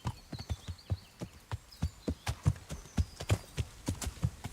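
Horse hooves in the video game Kingdom Come Deliverance, a steady clip-clop of evenly spaced hoofbeats, crisp and close at a walking-to-trotting pace with no talking.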